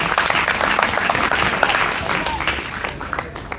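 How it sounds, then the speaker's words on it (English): A crowd at a cricket academy event claps for the under 11 tournament winners, a dense, continuous round of applause that fades slightly toward the end. "Big round of applause for them."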